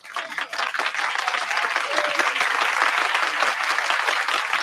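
Sustained audience applause for students at a pride display ceremony, rising quickly and holding steady as a dense wash of clapping with faint crowd voices.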